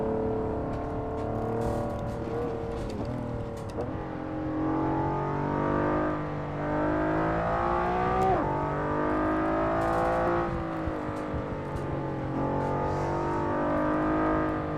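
Honda NSX GT2 race car engine in Assetto Corsa pulling hard through the gears, a steady loud drone with rising pitch sweeps and quick shift dips, sustained throughout with no talk.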